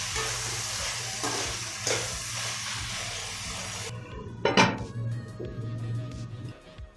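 Tomatoes cook in a pan on a low flame, a close sizzle with stirring scrapes, then a lid clatters on and the hiss drops to a softer simmer.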